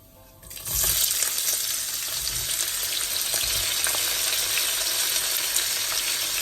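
Onions hit hot oil in a pan for an egg and potato curry, setting off a loud, steady sizzle that jumps up after a brief quiet start and keeps crackling evenly, close and without any voices.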